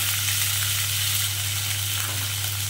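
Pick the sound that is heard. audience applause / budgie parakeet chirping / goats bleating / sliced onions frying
sliced onions frying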